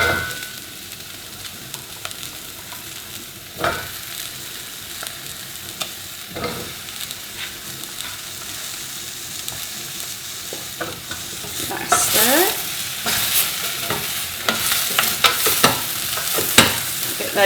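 Celeriac with onions and spices frying in a pan while a utensil stirs and scrapes the bottom, irregular scraping knocks over a growing sizzle that gets louder and busier toward the end, no talking.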